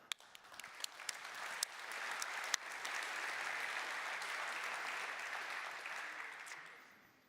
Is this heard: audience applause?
yes